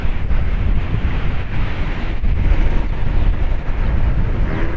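A gale on the Paphos seafront in Cyprus, with loud continuous wind roaring into the microphone over the crashing rush of high waves, a dense unbroken wall of noise with no voices.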